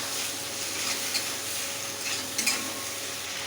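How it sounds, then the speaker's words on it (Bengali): Boiled potatoes go into hot oil in a pan and are stirred, giving a steady close sizzle with a few soft scrapes and clinks of the utensil against the pan, with no voices. "এরপর আমি সেদ্ধ আলুটা দিচ্ছি।"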